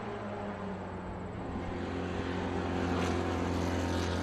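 Triumph and MG vintage race cars battle for first in an SVRA Group 1 feature race at Watkins Glen, their engines merging into a steady, loud, distant drone that swells slightly toward the end, with no talking.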